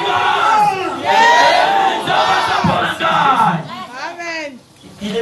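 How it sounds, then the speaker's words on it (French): A church congregation shouting together at a pastor's sermon, a loud, dense wall of voices that swells and surges for several seconds before easing off near the end. "Quelqu'un crie ensemble avec moi."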